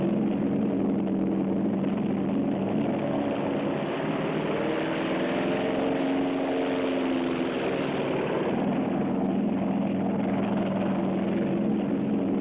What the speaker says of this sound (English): In the pre-dawn, the American carrier planes take off.